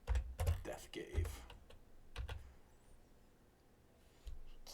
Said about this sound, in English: Well, I've been typing for a long time, so I'll make mistakes.